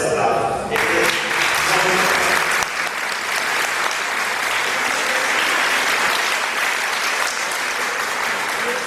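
Loud parish audience applause during a church talk on perpetual adoration, a sustained, dense roar of clapping that fills the room; a brief voice is heard near the start before the clapping takes over.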